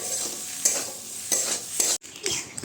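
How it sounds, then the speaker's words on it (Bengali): Eggplant frying in a pan while being stirred, with a steady sizzle broken by several sharp scrapes of a utensil against the pan, close and fairly loud. "এবারে দু তিন মিনিট নাড়াচাড়া করলেই বেগুন ভাজা রেডি"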